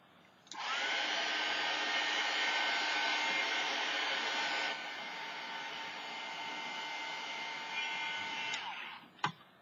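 A handheld heat dryer blows over a mixed media art card, switching on into a steady, close, loud whoosh. The pitch drops slightly midway, and it cuts off near the end with a click.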